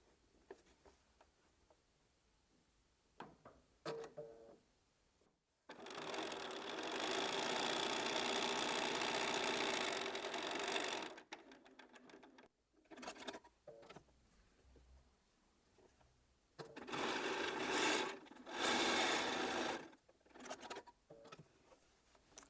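A sewing machine stitches quilt pieces together with a 1/4 inch seam, running in two sustained bursts of about five seconds and three seconds, with quiet handling noises between and around them.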